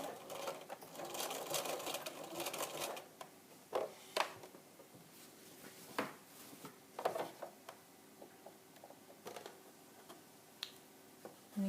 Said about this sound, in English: you're just sewing the bias binding all the way down